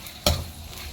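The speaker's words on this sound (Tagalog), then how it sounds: "i-stir mo muna to para lumabas ang aroma" Mala paste being stirred in an oily pan gives a single sudden sizzling scrape that fades into a soft steady fry, close and fairly loud, with no voices.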